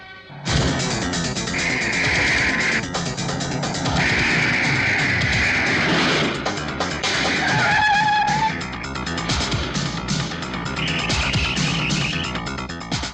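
A car racing at high speed in a chase: loud, busy engine roar with crashes, thuds and skidding screeches layered over dramatic music-like tones, staying intense for the whole stretch.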